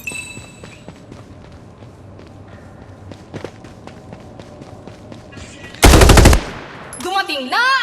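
A sharp automatic-weapon burst rips out for about half a second in the Farlight 84 battle royale video game, loud over quieter footsteps and game ambience, followed by warbling in-game effects and voices.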